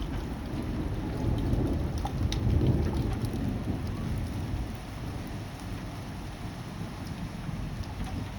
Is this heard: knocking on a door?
no